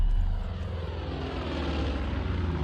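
Propeller aircraft engine droning loudly and steadily in Far Cry 5, a close, continuous rumbling whir with no speech over it.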